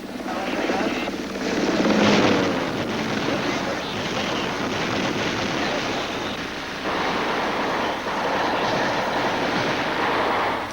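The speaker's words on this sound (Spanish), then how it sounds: "Un segundo helicóptero siempre está patrullando a punto de entrar en combate." A military helicopter flies over the jungle during the Vietnam War. Its steady, loud rotor roar fills the whole stretch, with dense rushing noise and heavier thumping bursts at times.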